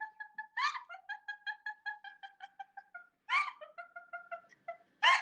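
A person imitates a chicken, producing a run of rhythmic clucking notes punctuated by louder squawks, repeated in two or three phrases, close and clear with no other talk.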